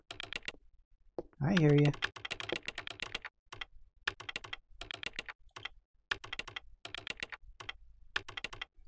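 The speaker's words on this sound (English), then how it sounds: "if he keeps typing that same string of letters, he's going to end up with repetitive strain injury" Keyboard typing in the video game Parasite Eve comes as repeated rhythmic bursts of close clicking keystrokes separated by short pauses, with a brief spoken line early on.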